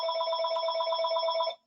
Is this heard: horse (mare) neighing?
no